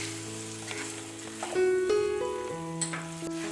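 Soy sauce splashes into a hot frying pan for chilli paneer and sizzles loudly, a steady frying hiss that swells in the middle and carries on alone with no voices.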